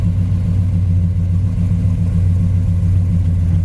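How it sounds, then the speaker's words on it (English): A deep, steady engine rumble from the dual exhaust of a 1966 Chevrolet Chevelle Malibu convertible, loud and close, with an even low throb and no voices. "The dual exhaust sounds great, looks nice."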